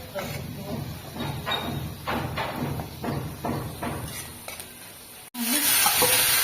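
Onions frying with turmeric in a pan, stirred in a run of rhythmic scraping strokes over a soft sizzle. The sizzle then swells into a louder, steady hiss near the end.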